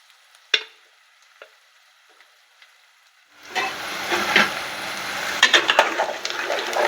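Onions and green chillies frying in a little oil with curry leaves for an egg curry, the sizzle starting abruptly after a few faint clicks and then crackling steadily and fairly loud to the end, with occasional stirring scrapes.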